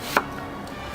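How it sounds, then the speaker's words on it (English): A single sharp knife stroke through an onion on a cutting board, close and crisp, followed by quiet room tone with no talking. "cut the onion"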